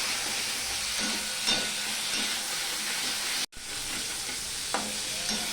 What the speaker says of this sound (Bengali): নুন হলুদ দিয়ে আমার ভাজা হয়ে গেছে ব্রকুলিগুলো